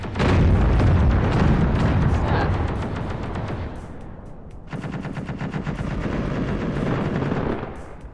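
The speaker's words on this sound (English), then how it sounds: "Now we're firing on the Callisto." Weapons fire in a space battle video game, with dense rapid bursts and booming impacts loud throughout, easing briefly before another steady stuttering volley of shots.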